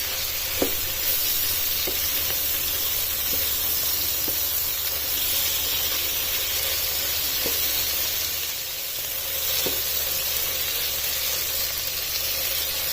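Chicken jalfrezi with capsicum sizzles steadily in a hot pan, a continuous close frying hiss broken by occasional stirring clinks, with no talking.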